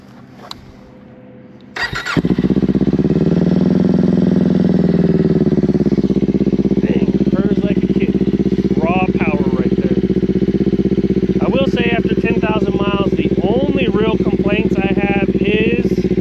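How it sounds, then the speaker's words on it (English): A Kawasaki Ninja 500 motorcycle cold-starts with a brief cranking whir, catches abruptly and settles into a loud, steady, slightly raised idle close by, while a person talks over it. "So we'll go ahead and do the cold start."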